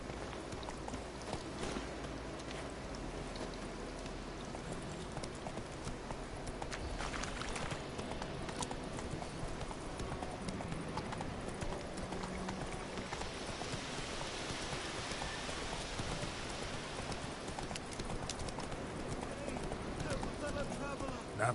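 Roach the horse galloping in The Witcher 3, a steady run of hoof clatter heard continuously over a dense game backdrop of rain and ambient sound, with a voice speaking over it.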